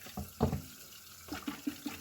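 Water poured off washed rice in a kitchen, a short run of gentle splashing and trickling close by, with a few soft sloshes near the end.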